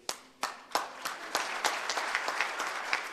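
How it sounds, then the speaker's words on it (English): An awards ceremony audience rehearses applause, starting with a few separate claps that quickly build into steady, dense clapping throughout. "Let's practice an applause now."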